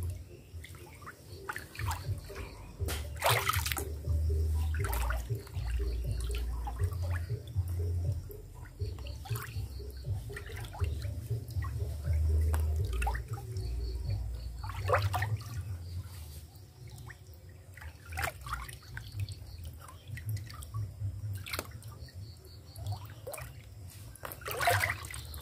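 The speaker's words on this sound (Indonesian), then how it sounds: "Kita aduk dulu" Fermentation liquid stirred by hand in a tub for making fermented corn stover silage, a steady close sloshing and trickling of water with occasional knocks against the tub, no talk.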